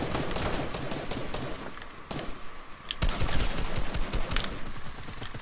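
Gunfire in Fortnite comes in rapid, uneven bursts of shots at close range, dipping briefly in the middle and then swelling louder toward the end.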